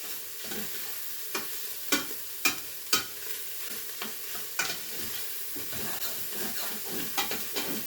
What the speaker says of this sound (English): We need the onions to be a little bit more caramelized.